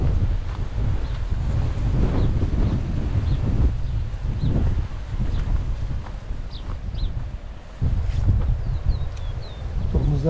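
Steady coastal wind near the sea in Datça, Turkey, roars and buffets the microphone throughout, a continuous low rumble with faint rustling and a few distant high chirps.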